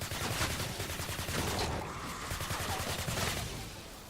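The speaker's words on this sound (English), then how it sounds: "You could go forever shooting this gun before you got to reload a clip" Rapid automatic gunfire from a long-magazine weapon in a video game, a dense unbroken stream of loud shots lasting several seconds with no pause to reload.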